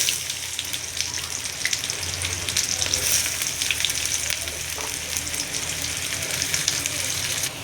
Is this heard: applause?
no